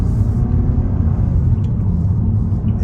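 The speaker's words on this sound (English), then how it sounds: "The engine doesn't sound super aggressive" A 2024 Mazda 3 engine pulling at half throttle in second gear: a loud, steady low rumble from inside the cabin, mild rather than aggressive, with no one talking.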